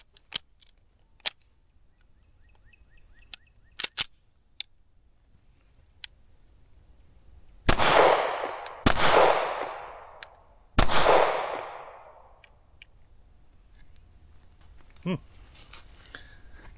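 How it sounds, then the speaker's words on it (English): Cosaint Arms COS21 pistol firing Blazer brass 115 grain rounds outdoors, three loud sharp gunshots with ringing decay amid faint clicks and handling sounds, spaced a second or two apart. "I'm just going to shoot the 17 rounds through it"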